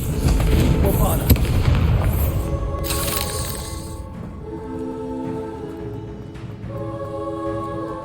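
In the PS5 game Hogwarts Legacy, the Bombarda spell bursts in a loud close boom with a crackling tail that fades into tonal game effects, while a voice speaks over the sound.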